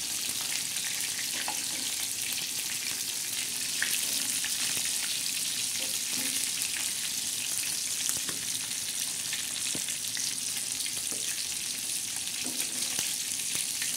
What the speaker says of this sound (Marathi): म्हणजे वरतून बी मच्छी तळल्या जाते, दोन्ही बाजूनी तेल तळल्या जाते